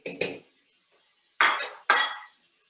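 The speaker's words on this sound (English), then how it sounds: "Keeping one kadai." A kadai, an Indian wok, is set down among pots and utensils in a home kitchen, giving a few close metallic clanks and clinks in quick bursts with short pauses between.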